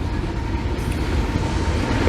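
A long freight train rolls steadily past in Folkston, Florida, with a rear-end DPU locomotive pushing at the tail, giving a continuous rumble and rattle of cars at close range.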